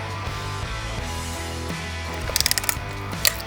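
An air gun is loaded and cocked, giving a few quick metallic ratcheting clicks near the close over a steady humming background, followed by a sharper click.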